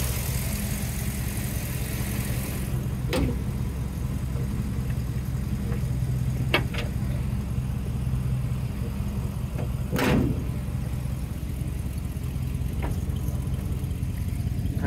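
A 1955 Ford F100 pickup with a 429 engine and two-barrel carburetor idles steadily, a low even rumble held throughout, with a few faint clicks or taps.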